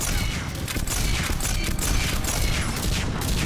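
Dense, continuous automatic gunfire from a gun in Mass Effect 3, loud and unbroken throughout amid battle noise.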